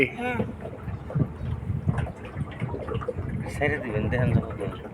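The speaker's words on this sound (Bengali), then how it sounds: "নৌকা চালাইতেছে আজকে ড্রাইভার" A boat moves across water with a steady low rumble and wind buffeting, while several people talk over it throughout.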